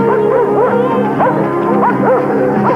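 Several dogs bark and yip in overlapping bursts, close and loud, over a steady noisy background.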